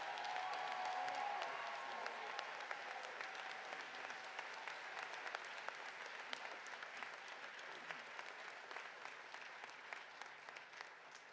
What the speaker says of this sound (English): Let's give another round of applause for Reverend Wesley.